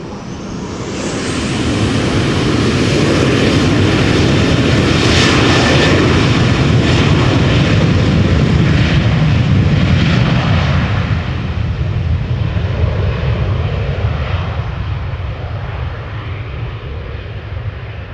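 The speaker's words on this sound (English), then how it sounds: "Boeing 737-800 going to London Heathrow, KLM flight 1009" A KLM Boeing 737-800 jet bound for London Heathrow takes off from Amsterdam Schiphol on a rolling start. Its engines swell into a loud, steady roar that holds, then slowly fades as it climbs away.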